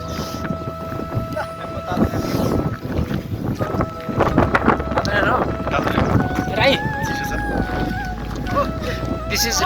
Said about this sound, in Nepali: यो पुलमा चाहिँ डेन्जर हावा चल्दो रहेछ